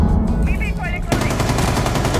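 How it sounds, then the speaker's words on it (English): Rapid automatic gunfire from suppressing fire in the video game Rainbow Six Siege rattles in a dense, loud burst, starting after a second of game noise and continuing to the end. "Suppress fire."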